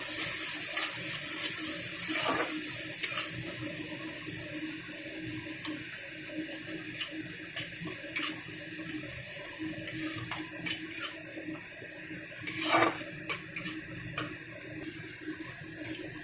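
A little water splashes into spices frying in a pan for a hilsa fish head and lentil dish. It makes a faint, steady watery hiss with occasional soft clinks, and no voices.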